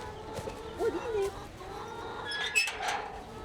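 Chickens cluck and chatter at feeding time outdoors, scattered soft clucks and a few higher calls, with some quiet human sounds mixed in.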